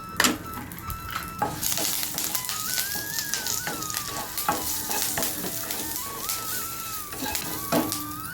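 Chillies fry in a little oil, sizzling and crackling in a pan while a utensil stirs and scrapes, with a faint high whistle drifting in the background.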